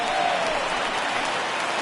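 A baseball stadium crowd of more than 37,000 at a Red Sox game roars and applauds as one, a dense, loud wash of cheering with a high whistle rising briefly above it.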